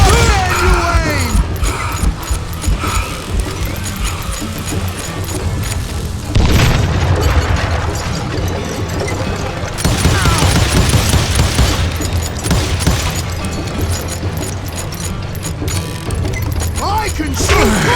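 Gunfights in Call of Juarez: Gunslinger, with loud, rapid gunshots and booming blasts cracking repeatedly, dense at times and sparser at others, mixed with shouting voices and crashing impacts.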